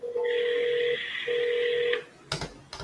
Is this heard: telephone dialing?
yes